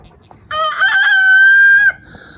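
A backyard chicken flock gives one loud, close rooster crow lasting over a second, with faint clucking and rustling before and after.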